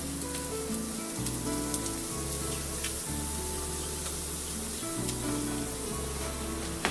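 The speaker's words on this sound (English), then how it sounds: "Gonna mix it up and then let the hamburger brown." Three pounds of hamburger meat browning with translucent onions in a pan for lasagna: a dense, steady sizzle like rain, under a low recurring hum, with occasional crackles and no talking.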